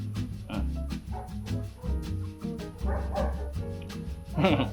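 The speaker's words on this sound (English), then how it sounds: "Listen to that siren and listen to that dog." A dog barks outside, a scattered run of barks over a constant low hum, with a siren somewhere outdoors and a louder burst of sound near the end.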